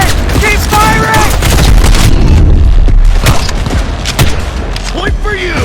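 Gunfire in Cyberpunk 2077 combat: dense bursts and booming shots overlapping continuously, loud and near, with shouting voices over the firefight.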